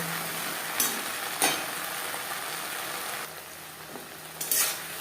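Tender okra being stirred and mixed with turmeric and salt in a pan over a gas flame: soft, continuous frying hiss with a few sharp scrapes and clatters of the spatula against the pan.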